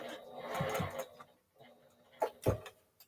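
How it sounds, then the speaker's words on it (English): A home sewing machine runs in short bursts while top stitching a baby cape, quick mechanical whirring runs broken by pauses, with soft handling clicks and a few words spoken between the stitching runs. "I almost got this top stitching done"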